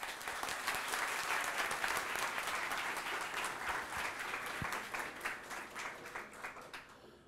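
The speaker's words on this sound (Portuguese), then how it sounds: "Uma salva de palmas para eles." Sustained applause from a seated audience at a Brazilian democracy debate welcoming the speakers, a dense even clapping that swells early and then slowly thins out toward the end.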